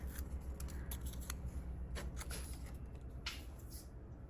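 Crafting material, such as paper or cardstock, torn by hand in a quiet room, giving several short crackling rips in irregular bursts alongside faint rustling.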